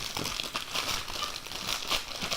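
A small plastic accessory bag from a Bose SoundSport headphone unboxing crinkles and rustles continuously up close, a busy crackling texture with soft pulses and no talk over it.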